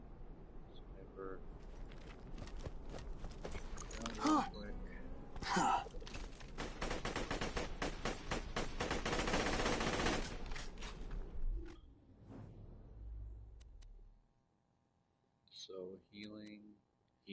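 Rifle and sniper fire crackles in bursts during a multiplayer shooter game, sometimes in dense volleys, heard under a player's steady commentary.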